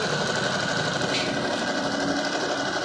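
A Yamazaki zig zag sewing machine stitches steadily, with a fast, even mechanical whirr and clatter heard close and alone.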